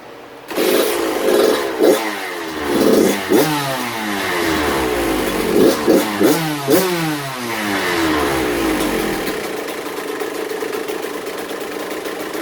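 Rebuilt Kawasaki KX85/KX100 two-stroke dirt bike with a new piston firing up and blipping the throttle in loud, close revs that rise and fall repeatedly, then settling into a buzzing idle.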